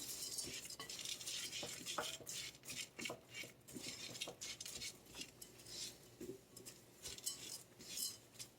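Lentils stirred in a pan to toast them, with repeated scraping and clinking of a utensil against the pan at close range, steady and busy with no talking.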